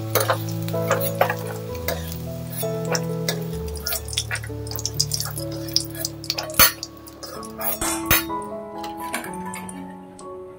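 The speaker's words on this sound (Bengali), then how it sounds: "আলুগুলো ভাজা হয়ে গেছে, এবার আলুগুলো তুলে রাখতে হবে।" Potatoes frying in oil in a home kitchen and being lifted out with a utensil: a low sizzle with sharp ticks, clinks and scraping taps scattered throughout, close and fairly loud.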